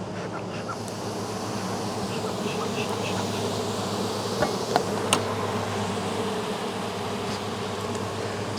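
Honey bees buzz steadily around an opened hive during a late-August inspection and honey pull, a close, dense, continuous drone with a few brief knocks and clicks.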